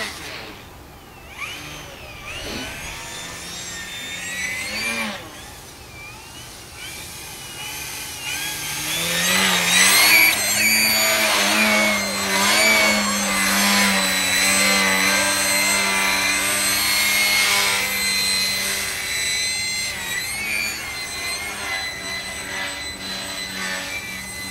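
E-flite Eratix FF RC plane making a fast pass at about 90% throttle: a whining motor and prop that build and stay loud and steady through the pass, with pitch shifting as it goes by.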